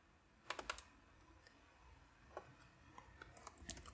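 Faint typing on a computer keyboard, with scattered individual key clicks and a few quick bursts of keystrokes over a quiet background hiss.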